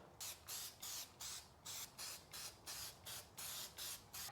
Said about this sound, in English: we're gonna be using first a self-etching primer, and this is gonna be to protect the metal